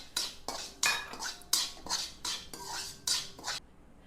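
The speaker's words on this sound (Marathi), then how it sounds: "आता आपण हे खसखस भाजून घेणार आहोत" Poppy seeds being dry-roasted in a pan for black garam masala, heard as a steady series of about ten rhythmic scraping strokes of a spatula against the metal pan, close and clear.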